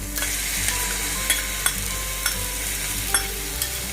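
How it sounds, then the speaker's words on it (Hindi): Chicken frying in a pan sizzles steadily as yogurt is added and stirred in, with a continuous hiss broken by a few soft spoon scrapes against the pan. "अभी मेरा जो दही है वो मैं इस पर डाल दूँगी।"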